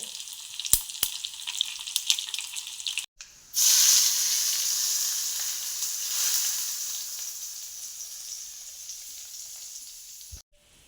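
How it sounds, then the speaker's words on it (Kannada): Mustard seeds and garlic sizzle in hot tempering oil for a pickle, a loud steady hiss that starts abruptly after a few seconds of quieter crackling and holds to the end, with no voices. "ಸಾಸಿವೆ ಮತ್ತು ಬೆಳ್ಳುಳ್ಳಿದು ಒಗ್ಗರಣೆ"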